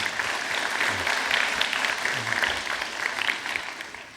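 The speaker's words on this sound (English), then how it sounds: "So I think he deserves a big round of applause." A round of applause from an audience at a talk on families affected by substance use disorders, steady and moderately loud for about four seconds, tapering slightly at the close.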